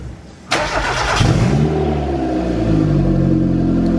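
Mazda Miata with a DIY turbo setup cranks briefly and fires up, a sharp catch followed by a rising rev that settles into a loud, rough idle right beside the microphone.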